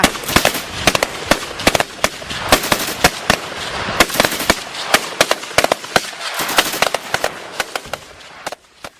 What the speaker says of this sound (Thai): เสียงปืนเล็ดดังระงม ทั้ง อาก้าและ M16 ผสมผสานด้วยเสียงระเบิด และเสียงของปืนกลที่ดังต่อเนื่อง